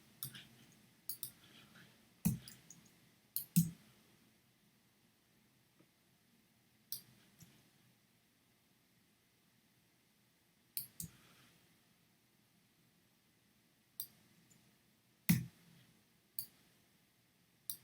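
Computer mouse clicks while working in 3D animation software, sparse sharp single and double clicks separated by quiet gaps, close and fairly loud against near silence.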